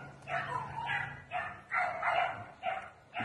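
An American Bulldog barks in short bursts, about six sharp barks spaced unevenly and fairly close by, loud and clear with little else behind them.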